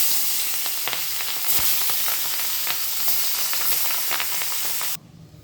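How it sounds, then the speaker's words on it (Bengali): Pabda fish frying in hot refined oil in a pan, a loud, bright, continuous sizzle with crackling pops, stopping suddenly near the end to leave a faint low background. "তেলটা আমার গরম হয়ে গেছে, এবার আমি পাবদা মাছগুলো ছেড়ে দেবো।"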